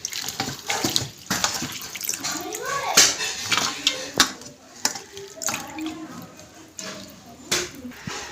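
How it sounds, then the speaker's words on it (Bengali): Teasel gourd is rinsed in water in a village kitchen, with irregular splashes, drips and light knocks close by while voices murmur faintly in the background. "কাঁকরোল দিয়ে ভালো করে জল ঝারিয়ে নিয়েছি।"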